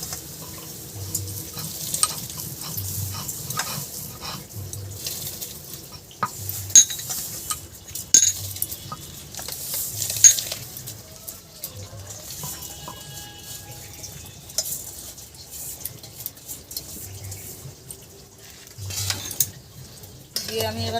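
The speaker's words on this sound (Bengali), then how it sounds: "আমার জল ফুটে গেছে, এবার আমি চাল দিয়ে দেবো।" Gobindobhog rice goes into boiling water and is stirred, giving a soft bubbling simmer with scattered clinks and scrapes of a utensil against the pot and a low rhythmic thumping throughout.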